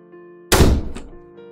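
A door is shut with a single heavy, close thunk that breaks a near-silent room, then decays into a short rattle and fades back to quiet.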